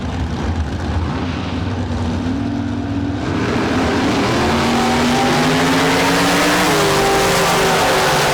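At the Street Car Super Nationals, a drag racing car accelerates down the track, its engine roar loud and rising in pitch as it pulls away, with no talk over it.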